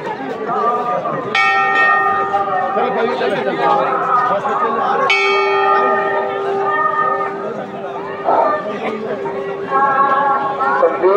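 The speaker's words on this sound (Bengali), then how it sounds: "বিশাল বড় ঘন্টা আছে, যে দেখাচ্ছে।" A large temple bell at Kedarnath temple rings out twice with bright, sustained metallic tones that slowly decay, while a busy crowd of pilgrims chatters loudly throughout.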